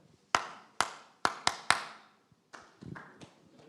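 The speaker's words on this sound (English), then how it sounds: "You'll be repeating the claps I do, but there'll be one rhythm that you should never copy" Hand clapping in a rhythm-copying game with a youth group, five sharp separate claps in an uneven pattern, then a few softer, muffled claps and taps, close and clear.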